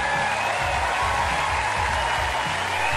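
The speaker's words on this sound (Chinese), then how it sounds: "好，掌声送给我们的小将，加油啊，" Studio audience at a gymnastics trampoline show applauding, a dense, steady wash of clapping that fills the whole stretch with a low rhythmic thump of music beneath it.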